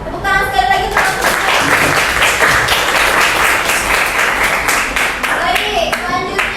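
A classroom of students clapping for a group presentation, a steady, close, fairly loud round of applause throughout, with a voice speaking briefly over it near the start and again near the end.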